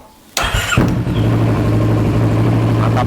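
A Kawasaki ER6N motorcycle, which had a fault that stopped it starting, cranks briefly on its starter and catches at once, then settles into a loud, close, steady idle.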